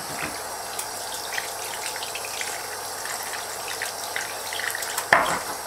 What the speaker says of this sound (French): Ensuite je rince du coup la petite brosse que j'ai utilisée. Et je rince tout correctement.